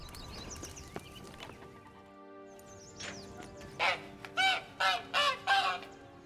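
Hen clucking repeatedly inside a cage in The Witcher 3: Blood and Wine, a run of five loud bursts after quieter ambient game sound and a short squawk.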